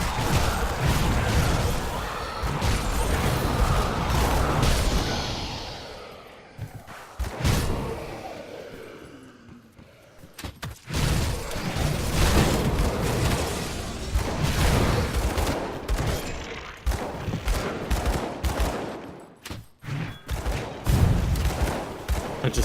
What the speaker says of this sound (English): I just heard a massive explosion.